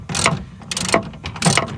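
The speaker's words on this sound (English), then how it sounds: "Finger tighten it first, and then you're gonna use your, I think you use a 1/2-inch socket." A strap bolt on a BAK Revolver4 truck bed cover is tightened with a 1/2-inch socket ratchet: three short bursts of rapid clicking, close and distinct, with no talk.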